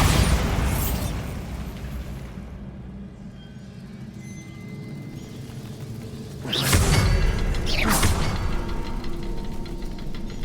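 A Bombarda blasting spell in a Hogwarts video game, a loud rumbling explosion that fades out, then a second burst of booming blasts with sharp cracks a few seconds later, all without talking.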